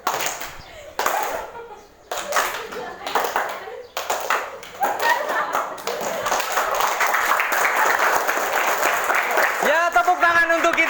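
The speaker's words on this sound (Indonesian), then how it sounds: "Ya, tepuk tangan untuk kita semua." A high school class claps together, building from scattered taps into steady group applause lasting several seconds, with voices talking over it near the end.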